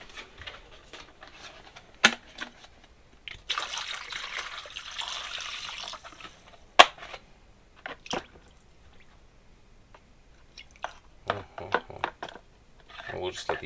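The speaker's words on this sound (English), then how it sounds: "A little bit of apple cider vinegar." Apple cider vinegar trickles and splashes over a rusty part from a Goldwing cafe racer gas tank, a soft wet hiss for a few seconds between scattered sharp clinks and handling knocks.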